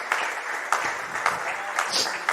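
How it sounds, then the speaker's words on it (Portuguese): Scattered clapping from a church congregation during a service, steady and moderately loud, with brief louder bursts and a faint voice in the background. "Você pode aplaudir ao Rei dos Reis."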